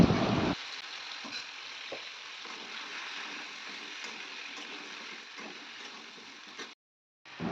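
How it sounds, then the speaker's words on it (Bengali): Boiled taro, potato and jackfruit seeds fry in hot oil with a steady, dense sizzle that carries on evenly, then stops briefly near the end before resuming. "কচু আলু ভাতে দিয়েছিলাম কাঁঠাল দানা সমস্ত কিছু একদম দিয়ে দিলাম তেলের মধ্যে"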